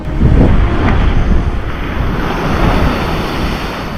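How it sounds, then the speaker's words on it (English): Ocean waves crashing against cliffs near a blowhole on Maui, a loud continuous roar of surf and spray with heavy wind buffeting the microphone. "With the waves flying in the air after pounding off the cliffs"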